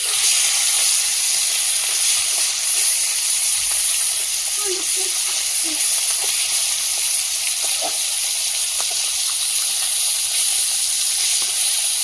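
Steady loud sizzling and hissing of fish frying in oil in a wok, continuous throughout, with a few faint clicks and clinks.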